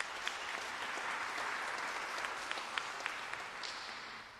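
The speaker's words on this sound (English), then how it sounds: "in appreciation, let us give a round of applause." A church congregation at Sunday Mass on Father's Day breaks into steady, moderate applause, a soft wash of many hands clapping heard from a distance.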